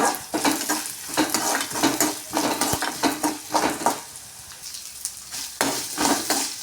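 Coriander seeds sizzling in a hot pan while being stirred with a utensil, a close, steady crackling fry punctuated by repeated scraping strokes.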